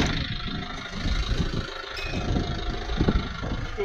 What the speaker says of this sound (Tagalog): Scooter.